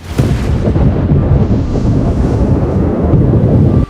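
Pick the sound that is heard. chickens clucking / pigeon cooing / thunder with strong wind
thunder with strong wind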